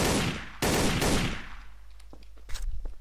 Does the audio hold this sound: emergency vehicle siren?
no